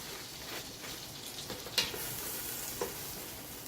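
Two sticks of butter melt in a pot for a seafood boil butter sauce, producing a soft, steady sizzle with a few sharper pops and a utensil tap, close and gentle, without any talking.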